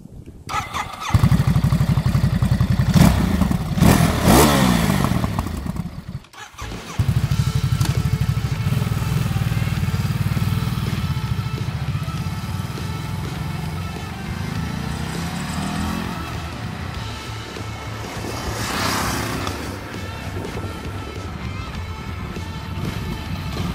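A Ducati Desert X off-road motorcycle rides steadily with its engine droning loud and close, a sharp roar and gear change near the start, then a long even cruise with slight swells in pitch.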